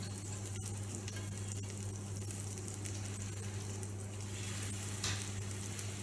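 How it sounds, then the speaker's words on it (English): Bubble and squeak patties fry in a pan with a steady crackling sizzle and occasional soft clicks and taps of the pan. The sound is close and even, with no voices. "So now we are frying our bubble and squeak."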